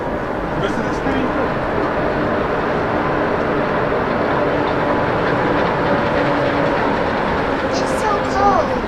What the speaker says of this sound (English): The train, Avery, the train